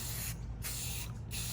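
A can of Painter's Touch black spray paint hisses onto an iron patio table, up close and loud, in three steady bursts separated by two brief pauses.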